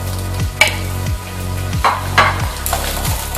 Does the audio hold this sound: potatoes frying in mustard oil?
yes